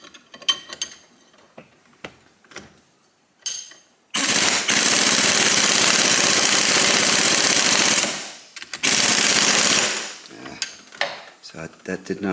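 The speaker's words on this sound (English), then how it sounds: "should be able to blast it with this air gun" Air impact wrench blasting a 27 mm bolt on a 1985 Honda XL600R motorcycle transmission, two loud rattling hammering bursts of a few seconds each, separated by a short pause, with quieter shop clatter around them.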